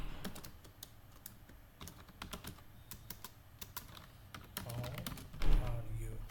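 Fast clicking of keys on a computer keyboard while typing code, a close, quiet patter of irregular taps with a voice speaking briefly near the end.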